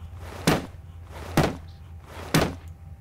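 Three heavy hammer blows strike a locked door in the video game Penumbra Overture, each a loud, close thud spaced about a second apart against a quiet background.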